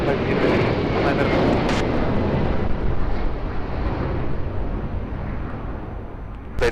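An airplane lands at Lisbon Airport with a loud, broad engine roar that gradually fades, while an air traffic control radio voice speaks over it.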